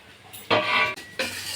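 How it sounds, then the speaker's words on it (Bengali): Raw rice is stirred while it fries in a pan: two scraping strokes of a utensil against the metal, close and fairly loud, over a faint sizzle. "নেড়ে যেতে হবে"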